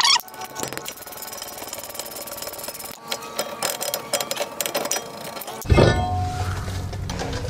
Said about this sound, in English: Grab my other socket and pull off the caliper bracket.